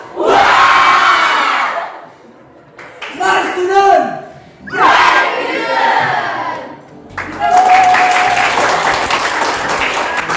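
A class of students loudly chants and shouts a cheer in Indonesian in unison, in several bursts with short pauses, ending in noisy crowd clamor.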